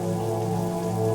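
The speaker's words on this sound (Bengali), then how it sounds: "বৃষ্টি পড়ে এখানে 12 মাস।" Steady rain falling as a sound effect in a Bengali audio drama, an even, continuous hiss and patter with no gaps, close and moderately loud, heard alone without any voices.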